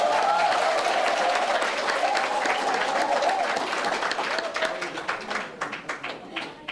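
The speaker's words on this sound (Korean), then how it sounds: "우리 다시 한번 큰 박수 부탁합니다" Audience at a talk concert for building a Busan independence movement memorial hall claps loudly and steadily, the applause thinning into scattered claps toward the end.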